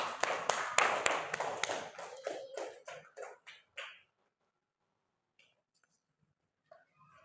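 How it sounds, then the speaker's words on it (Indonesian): A short burst of clapping from a small group in a classroom, loud at first and thinning out after a few seconds into near silence. "Kita beri tepuk tangan"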